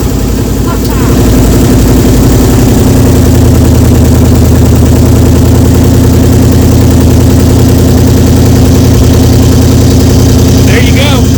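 A 1979 Ford F-100 that sat for years cranks over and catches, then settles into a loud, steady, rumbling idle that runs on without a break.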